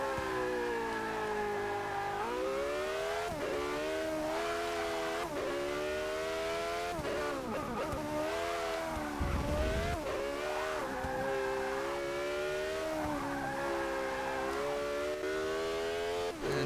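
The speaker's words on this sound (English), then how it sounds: "it's a typical race car that can go really fast and handle really well" A Porsche race car in the Forza Motorsport 6 game screams through corners, engine pitch climbing and dropping with each gear change and braking point, tires squealing briefly, loud and continuous throughout.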